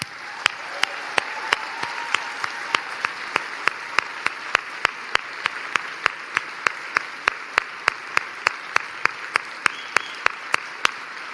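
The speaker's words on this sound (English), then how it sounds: "Can we please applaud them?" Audience applause at a political speech: dense, steady clapping that holds for about eleven seconds at moderate loudness, with sharp, evenly spaced clicks cutting through the wash of hands.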